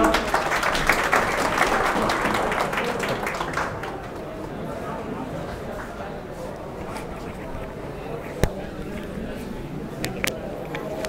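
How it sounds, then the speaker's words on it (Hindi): At a large seminar, an audience applauds to welcome a teacher to the stage; dense clapping starts strong, then thins and fades to scattered claps within a few seconds, leaving room noise and a few isolated knocks. "आइए सर तालियों से स्वागत कीजिए इनका"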